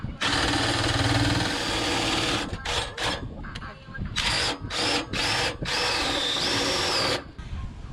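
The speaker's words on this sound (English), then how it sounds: "And this is our DeWalt drill." A DeWalt cordless power drill whirs loudly in several bursts, a long run followed by short stop-start pulses with brief pauses between, raising and lowering RV jacks or stabilizers.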